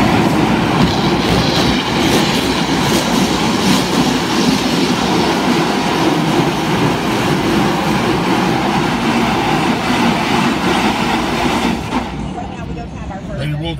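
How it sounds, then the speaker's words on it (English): An automatic double car wash running, heard from inside a car as a loud, steady rushing roar of spraying water and machinery that continues throughout, then drops off somewhat near the end. "Alright, this is a double car wash"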